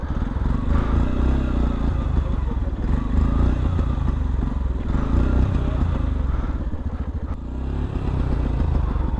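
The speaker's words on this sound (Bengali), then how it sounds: "দেখতেই পাচ্ছেন পুরো বাইকের পেছনের চাকা ঘুরতেছে আর কিছুই করতেছে না" A motorcycle engine drones steadily while its rear wheel spins in snow, churning and clattering, loud and close, with no voices.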